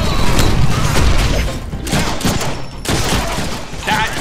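Rapid bursts of gunfire from the Deadpool video game crackle loudly and close, repeated volleys with short gaps and heavy impacts, with no speech over them.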